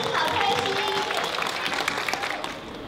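An audience applauds at a tribute event honouring a Taiwanese literary figure, a burst of clapping from a crowd that fades slightly over a few seconds while a voice speaks over it.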